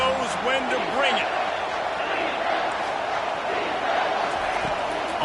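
Stadium crowd at a football game roaring in a steady, dense wash of cheering and shouting throughout, loud and sustained with scattered individual yells rising above it.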